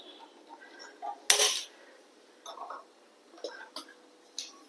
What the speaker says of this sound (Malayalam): നമുക്ക് സ്റ്റൗ കത്തിച്ച്